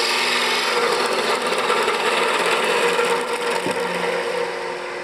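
A woodturning gouge cuts into a spinning wooden workpiece on a lathe, giving a steady, loud, close scraping hiss that continues almost unbroken and fades slightly near the end.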